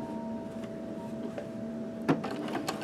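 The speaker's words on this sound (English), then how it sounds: "So I'm doing a straight stitch. I'm gonna start" A sewing machine runs a straight stitch along a split hem, giving a quiet, steady mechanical whir with a few faint clicks and a sharper tap near the end.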